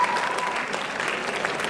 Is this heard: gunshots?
no